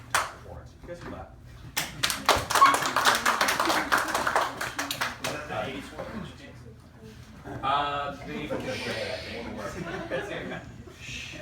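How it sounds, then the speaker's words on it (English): Audience clapping at a Dirt Devils season-ending party, a dense burst of many hands from about two to five seconds, then scattered claps, chuckles and talk as the crowd settles. "You guys can clap."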